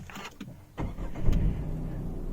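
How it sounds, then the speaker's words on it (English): A Tata car's engine is started on a hot day: a few faint clicks, then a cranking catch and the engine settling into a steady nearby idle. "Now let me just turn on this car"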